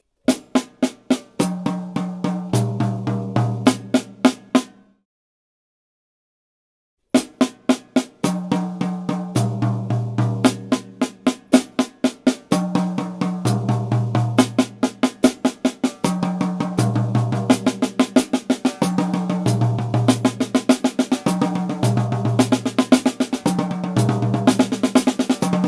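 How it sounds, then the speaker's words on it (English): A drummer runs a steady stream of quick strokes starting on the snare with the right hand, then moves around the rack tom and floor tom and back to the snare. The sticking is dense and even, with one short silence early on. "We started on the snare drum with the right hand,"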